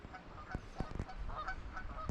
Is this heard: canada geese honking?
yes